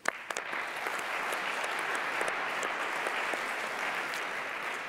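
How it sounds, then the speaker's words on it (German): An audience at a digital health conference session applauds, a steady, fairly soft wash of clapping that starts with a few sharp claps and holds evenly to the end. "Applaus"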